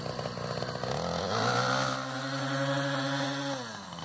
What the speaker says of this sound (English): This is the first time in 5 years that this goddamn weed whacker ran.